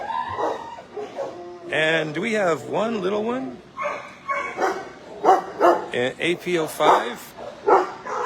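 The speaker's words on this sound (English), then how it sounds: "I woke him up, so now he's yapping at me." A small black dog yaps and whimpers in repeated high bursts, close by and loud, while a person talks over and between the barks during a nighttime walkthrough.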